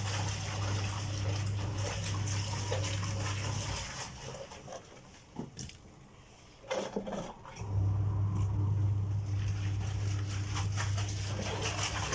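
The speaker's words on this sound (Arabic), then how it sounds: "الميه غلت معانا، هننزل كده قطع" Cauliflower pieces are dropped into a pot of boiling water, a steady bubbling rumble that briefly breaks into splashes and plops as the florets go in, then returns to a full boil, close and fairly loud.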